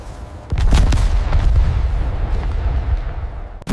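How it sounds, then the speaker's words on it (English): German artillery firing along a snowy, forested WWII front, with loud deep booms and rolling blasts that come in quick succession and echo into a sustained rumble. "Before dawn, German artillery opened fire across the Allied front."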